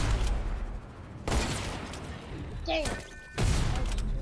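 Loud sniper rifle shots in the video game Fortnite, three heavy booming cracks spaced across the clip, with a voice speaking briefly between them.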